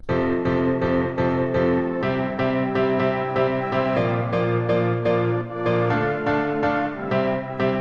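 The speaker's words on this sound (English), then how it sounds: "I'd add some house pianos and just some pads in the background to thicken it out" Layered house piano chords over sustained synth pads form a dense chordal section in an electronic remix, with a steady rhythmic pulse and full, continuous loudness and no voices.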